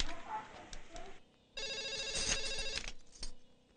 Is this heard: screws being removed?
no